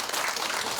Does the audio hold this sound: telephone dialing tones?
no